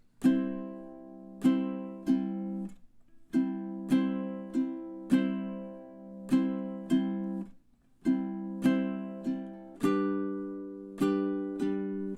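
A ukulele strums chords slowly and evenly, each strum ringing out before the next, with short gaps between groups of strums.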